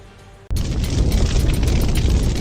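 An animated asteroid impact explosion sets off a sudden loud boom about half a second in, then gives way to a sustained, dense roar and rumble that fills the rest of the clip with no speech.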